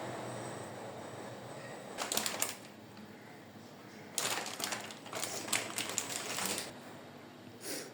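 A knife slices mushrooms on a board for vegetable soup, with bursts of quick, rhythmic tapping chops separated by quieter pauses, close by against a soft room hiss.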